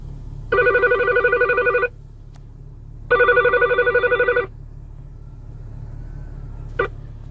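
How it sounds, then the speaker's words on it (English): Incoming phone call: two loud, buzzy electronic ring bursts about a second and a half each, separated by a pause, over a low steady hum, followed by a brief click. "I have a phone call coming in"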